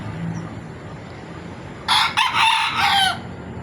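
A stag fighting rooster gives one loud, close crow of about a second and a half. The call breaks into several segments and follows a quiet stretch of faint background noise.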